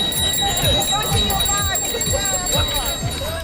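Many bicycle bells ringing repeatedly among riders at a night-time glow bike ride in Norwich, bright overlapping dings and chimes over a busy crowd with voices talking throughout.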